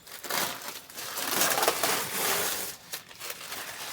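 Blue protective plastic film peels and crinkles off a new tractor. The crackling rustle is loud, close and continuous, then eases into a few softer crinkles at the end.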